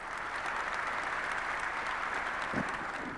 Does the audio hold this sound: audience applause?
yes